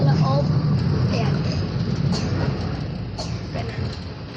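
A train runs on its way toward Central Terminal, heard from inside the carriage as a steady low rumble and hiss with faint metallic squeals and clicks. People talk in the background.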